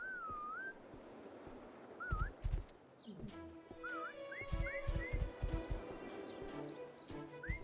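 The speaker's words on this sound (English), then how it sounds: "I know that whistle's driving me crackers" Short rising whistle tones in the video game Swords 'n' Magic and Stuff repeat several times at irregular intervals, clear and fairly loud, mixed with thuds, clatter and other game sounds.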